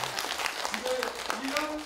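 An audience at a village comedy show claps briefly and loosely, fairly quiet and mixed with people talking over it.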